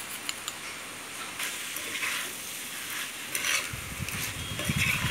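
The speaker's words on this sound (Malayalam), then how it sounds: "ആ എണ്ണയിൽ നമ്മുടെ ഈ ചിക്കൻ ചെറുതായിട്ടൊന്ന് പൊരിഞ്ഞു വരണം." Chicken pieces frying in oil, stirred now and then: a steady hissing sizzle with occasional soft scrapes and a brief clatter, close and moderately loud, with no one talking.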